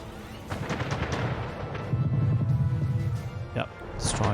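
Ship cannons firing in the game Anno 1800 during a naval attack, a series of booming shots and thuds layered over rumbling battle noise, with a voice talking over part of it.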